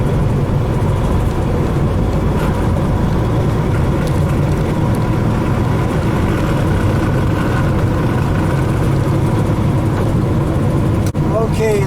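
Heavy truck engine running steadily while a 13-speed transmission is shifted, a loud, continuous low rumble close by with a brief clunk near the end.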